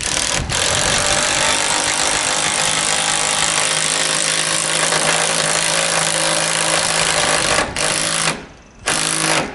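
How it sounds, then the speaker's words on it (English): A power driver with a 6mm bit drives a quick bolt roof anchor into a shingled roof, a loud, close, continuous motor whine that cuts off briefly near the end and then runs again. "Quick bolt, our first quick bolt is going in. Got a 6mm driver."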